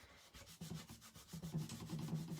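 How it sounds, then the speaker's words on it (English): Dry baby wipe rubbed over gold foil on a stamped holiday photo card, a quiet, rhythmic back-and-forth scrubbing with soft, papery friction strokes. "Dry baby wipes work really good if you've smudged something. You just rub it out on this gold foil"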